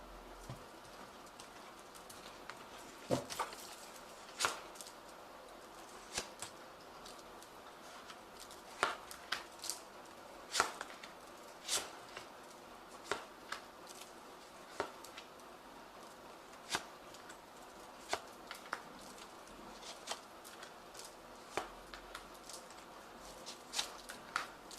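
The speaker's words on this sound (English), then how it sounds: "I have shuffled this deck." Tarot cards are shuffled and tapped in a series of quick, sharp riffles and clicks, close and fairly quiet, with no talking.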